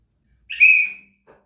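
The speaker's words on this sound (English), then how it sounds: "So it says military brass whistle." A small military brass whistle gives one short, shrill blast of under half a second against silence, followed by a faint soft sound.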